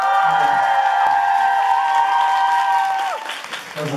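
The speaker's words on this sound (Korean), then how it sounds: "다시 한 번 박수 전달드립니다" Applause and some cheering from a crowd at an indie band's concert, rising under a ringing chord that lingers and dies away. The clapping thins out toward the end.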